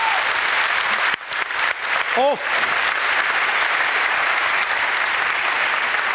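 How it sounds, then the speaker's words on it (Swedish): Warm audience applause after a debate between two party leaders, sustained and steady clapping from a crowd, loud and full, with a brief speaking voice at the start. "vi ska givetvis tacka de här två partiledarna med en riktigt varm applåd"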